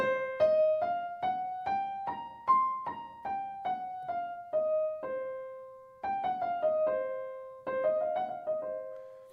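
A piano plays a slow ascending and descending scale with a raised fourth, single notes one after another, that one pitch step sounding slightly exotic, alone and clear.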